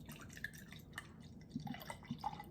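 Woodchuck Mimosa cider pours into a glass in a quiet room, a soft trickle with scattered drips and small splashes that lasts a couple of seconds.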